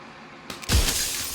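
Glass shatters in the video game Slay the Princess, a sudden loud crash with a deep thump that leaves a bright, sustained ringing spray of shards.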